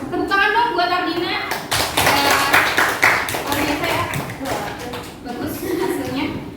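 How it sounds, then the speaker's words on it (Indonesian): A classroom group clapping for a student, a short burst of applause mixed with taps and shuffling while a voice talks over much of it. "Tepuk tangan dong buat Ardina."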